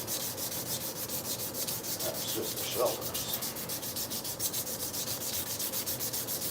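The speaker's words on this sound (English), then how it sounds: "Last one, hand sanding" Rhythmic back-and-forth strokes of hand sanding a knife handle, steady and close, with a short spoken remark partway through.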